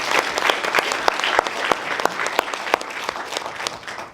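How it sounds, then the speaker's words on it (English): An audience applauds student presenters at a university startup pitch competition, a dense, steady round of clapping with sharp individual claps standing out, sustained at full strength throughout with no talking. "give the presenters one more round of applause"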